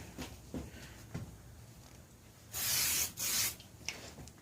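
Two short, close hissing bursts from a spray can onto a John Deere L100 lawn tractor part, following a few soft rubbing and handling noises.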